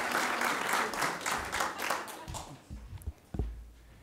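Audience applause at a school board of education meeting, a dense burst of clapping from a seated crowd that thins out and fades to a few scattered claps after about two and a half seconds.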